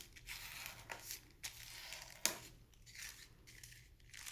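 Paper is folded in half again and again, giving soft crinkling and creasing rustles with one sharp crisp snap partway through, close and fairly quiet, with no one speaking.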